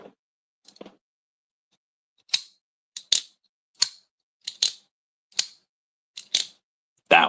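A titanium folding knife's lock clicks open and shut in a series of sharp, crisp snaps, about nine distinct clacks spaced irregularly over several seconds against near silence.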